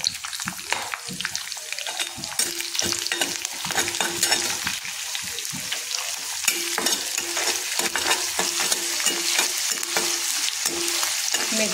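Fenugreek seeds fry in hot oil in a pan, giving a continuous dense crackling sizzle with rapid small pops and occasional stirring scrapes, fairly loud and close, with no talk.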